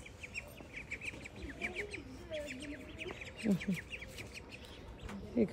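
Ducks quack in short, faint bursts amid a scatter of small chirping birds, with rural background hum and a few louder quacks near the end.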